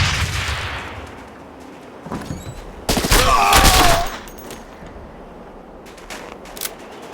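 Gunfire in the tactical shooter SAS: Secure Tomorrow: a loud, close burst of rapid automatic shots in the middle, with scattered single shots and battlefield noise before and after.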